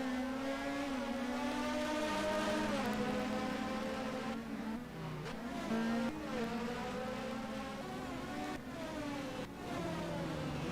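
Race cars lapping a circuit in the United Kingdom, engines droning steadily with shifting pitch as several cars pass and change gear, loud and continuous with no talk.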